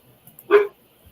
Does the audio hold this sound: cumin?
no